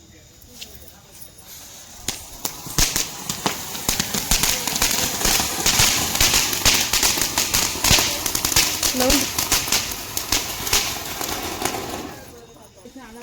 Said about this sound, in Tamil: அதாவது கிராண்டாக பட்டாசு வெடிக்க போகிறோம்